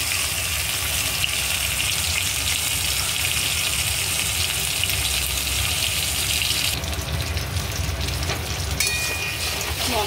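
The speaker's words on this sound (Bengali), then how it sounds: "মশলাটা অল্প কষে নেবো।" Spice paste sizzles in hot oil for a rohu fish curry, a steady, dense hiss and crackle that carries unbroken from start to finish, close and moderately loud with no talking.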